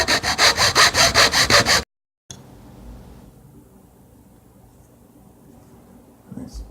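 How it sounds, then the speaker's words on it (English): A hacksaw with a metal blade cuts into a dry mullein stalk in a quick run of loud, rhythmic rasping strokes, then stops. A quiet, faint background follows. "A hacksaw with a metal blade is actually pretty good for this."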